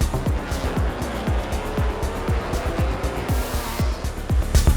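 MotoGP motorcycles racing at the Motegi circuit in Japan, loud high-revving engines snarling past in rapid succession with repeated downshifts and pops as the bikes brake and accelerate through a right-hand corner.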